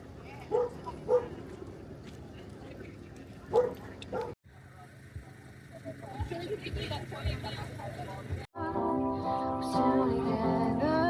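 A dog up for adoption at Kingsbury Market gives several short yips and barks amid busy crowd chatter and voices, with music playing toward the end.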